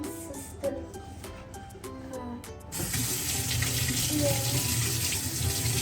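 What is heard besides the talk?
water running from tap while washing hands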